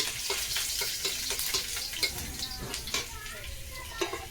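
Lightly crushed garlic fries in a pan with a soft, steady sizzle, broken by a regular series of spoon taps and scrapes as it is stirred at close range.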